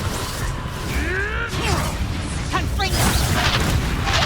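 The Reducto spell blasts in the video game Hogwarts Legacy with a loud, close booming impact over a dense rumble of combat, with whooshing, whistling streaks and a crash mid-way and no clear talking.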